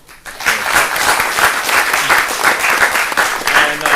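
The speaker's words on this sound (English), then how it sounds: "So first thing first is a round of applause for Prof." A lecture audience at a speech lab event gives a sustained round of applause, loud and close, with dense overlapping claps and no talking.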